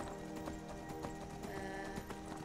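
Horse hooves clip-clop at a steady walking rhythm while riding on horseback in Skyrim, close and moderately loud over a tonal music bed, with a brief whinny-like sound.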